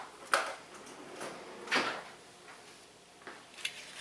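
A kitchen drawer slides open and shut several times, giving soft scraping thuds at uneven intervals that sound close and fairly quiet, with no talking.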